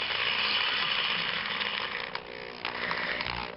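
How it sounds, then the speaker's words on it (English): A drill spinning while a bracelet hinge is made, a steady whirring buzz that continues with small dips and catches toward the end, close and alone. "take your drill, put it on the end here"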